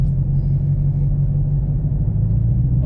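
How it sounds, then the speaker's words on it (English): A steady, loud low rumble like a running fan or engine, constant and close with no pauses. "my fan's loud right now."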